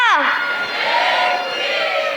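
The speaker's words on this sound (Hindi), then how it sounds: "तालियां बजाओ एक बार मौलिक के लिए" An audience at a Jain temple gathering cheers and shouts for a singer, a loud swell of crowd voices with a rising whoop at the start.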